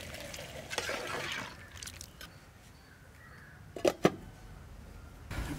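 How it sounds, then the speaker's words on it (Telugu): Water is poured into a pot of country rooster (natu kodi) curry for Sankranti, with a short splashy pour near the start and two sharp clinks of the pot later, with no talking. "ఇప్పుడు నేను ముక్కలు మునిగే వరకు నీళ్ళు పోస్తున్నాను కదండి"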